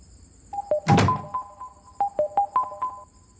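Phone sounds during a late-night call in the film Mardaani 3: a thud, then a quick run of short, bright keypad-like tones, fairly close and with no talk over them.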